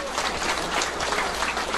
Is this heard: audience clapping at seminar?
yes